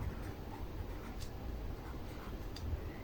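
Chalk or marker scratching on a board as chlorine isotopes are written out, faint, soft repeated strokes in a quiet room.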